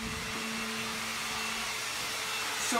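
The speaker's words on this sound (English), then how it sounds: "So I wanted to use a hair dryer to make sure that it wasn't the fridge causing just the issue." A hair dryer runs steadily on a household circuit protected by an arc fault breaker, a constant airy whoosh at moderate, fairly quiet level with a faint electrical hum beneath and a slight shift near the end.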